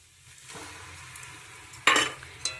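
Mutton fat hits a hot pan and sizzles steadily, with a sudden louder hiss burst partway through and a brief clatter of a utensil near the end, close and without any talk.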